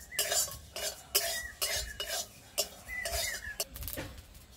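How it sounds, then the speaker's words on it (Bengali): Cumin, fennel and radhuni seeds dry-roast in a pan while a spoon stirs and scrapes them, producing repeated rhythmic scraping and clinking strokes, close and moderately loud, with no talk. "সব একসাথে ভেজে নেব।"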